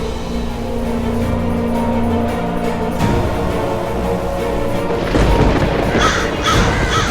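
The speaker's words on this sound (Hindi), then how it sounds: "कौओं की आवाज है" Crows caw outdoors over a busy layered background of tonal sound, their calls rising above a steady mix with a louder stretch of harsh cries toward the end.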